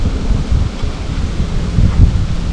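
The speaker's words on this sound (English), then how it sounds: "And it's another windy day here at the Homestead." Wind blowing outdoors at a homestead on a cold, windy day, a steady loud rumbling buffet against the microphone with gusty swells throughout.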